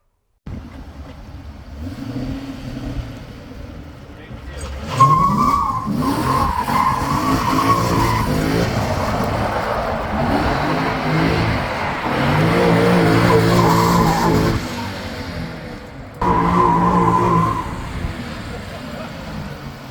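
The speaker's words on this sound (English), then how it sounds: "We did a little skid." A Subaru BRZ with a swapped 3UZ V8 skids with tires squealing and the engine revving, sustained screeching runs with a short break and a renewed burst near the end; a voice is also present.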